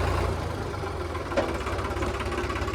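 A 2018 New Holland 3602 50-horsepower tractor engine idles nearby with a steady low rumble and rhythmic knocking throughout, with one faint clank partway through.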